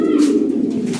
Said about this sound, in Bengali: এই পেয়ারটা ভালো কবুতর